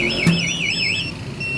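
A Honda CBR150 smart-key anti-theft alarm wails, a warbling electronic siren rising and falling in pitch, loud and close, with a brief thump near the start and a steady hum underneath.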